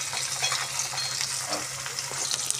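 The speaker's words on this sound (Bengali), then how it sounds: "মাছটা কড়াই দিয়ে দিয়েছি, এবারে আস্তে করে ভেজে নিই।" Rui fish frying in hot oil in a kadai, giving a steady, dense sizzle that stays even throughout with small crackling bursts.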